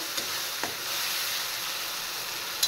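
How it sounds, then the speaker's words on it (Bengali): Spice paste of garlic, ginger and onion frying with turmeric and salt in a pan: a steady close hiss of sizzling with a couple of faint stirring scrapes. "এবার মশলাটা হলুদ নুন দিয়ে কষিয়ে নেব"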